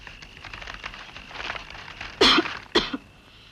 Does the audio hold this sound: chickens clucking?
no